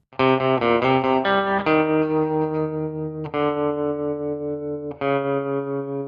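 A twangy, reverb-soaked surf rock electric guitar picks a quick run of notes, then lets long chords ring out and decay, with no voices.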